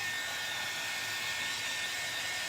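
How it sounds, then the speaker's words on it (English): A hair dryer blows in a steady, continuous broadband whoosh over door hangers, even and unbroken throughout, close by with no talking. "I'm just running the dryer over these real quick."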